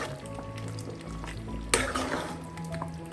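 Creamy handi chicken curry gravy being stirred and mixed in a pot, a low bubbling sizzle with a sharp scrape of the spoon partway through, followed by soft stirring sounds.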